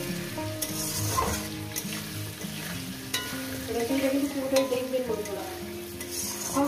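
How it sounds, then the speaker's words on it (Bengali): Potato pieces fry steadily in hot oil in a pan, a loud continuous sizzle broken by frequent stirring scrapes, with music playing softly underneath. "এটাকে আমি 3-4 মিনিট ধরে আলুটাকে ভেজে নেব।"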